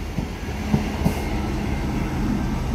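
British Rail Class 159 diesel multiple unit on a South Western Railway service from Salisbury to London Waterloo, heard as a steady near rumble of a passing train with a few faint wheel clicks and no talk.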